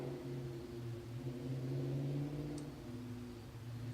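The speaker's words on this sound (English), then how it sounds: "V8 in the distance. manual transmission. Mustang." A distant V8 Ford Mustang with a manual transmission rumbles by on a street, a faint, steady low engine drone heard from far away.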